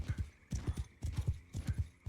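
A warhorse gallops at full speed in the medieval battle game Mount & Blade II: Bannerlord, steady rhythmic hoofbeats in repeating triple clusters, close and moderately loud, with no talk.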